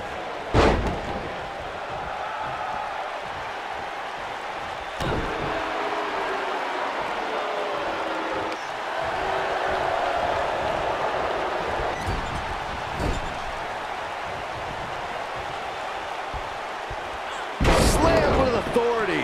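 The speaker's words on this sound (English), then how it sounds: "Slammed with authority" Body slams in a WWE 2K wrestling match, a few sharp heavy thuds spaced several seconds apart, with the last one loudest, under continuous commentary talk and crowd ambience.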